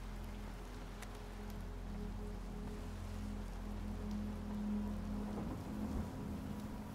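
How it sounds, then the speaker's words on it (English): Steady rain falling, with a low rumble of thunder underneath; no voices. "Hey, it's raining."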